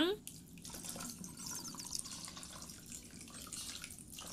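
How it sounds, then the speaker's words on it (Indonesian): Boiled water is poured over drained sago pearls, giving a faint, continuous splashing trickle at close range. "ini kita siram dengan air matang"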